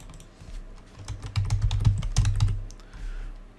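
Rapid keyboard typing on a computer keyboard, a burst of close, crisp key clicks clustered in the middle of a short stretch, with no talking.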